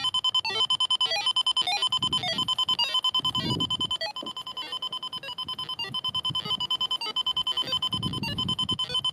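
A homemade electromagnetic sensor held near a railway line picks up mains-frequency interference: a continuous, rough, pulsing electrical buzz rich in harmonics, with low rumbling handling noise beneath it and no speech.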